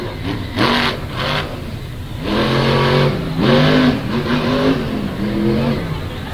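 Monster truck engine revving hard at a Monsters vs Megas show in West Lebanon, repeated surging roars rising and falling in pitch, loud and close with brief gaps between bursts.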